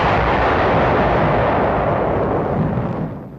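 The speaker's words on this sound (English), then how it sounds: "B-25s and P-51s strafe and bomb the island. The rocky Caballo hillsides are thoroughly pounded." WWII bombing and artillery shelling of the rocky hillsides of Caballo Island by B-25s and P-51s, heard as a dense, continuous roar of blasts and rumble that fades at the end, with no voices.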